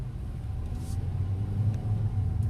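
Low, steady rumble of a 2018 Kia Rio EX Sport rolling off from a stop, heard from inside the car as a smooth hum with faint road noise, fairly quiet and with no talk.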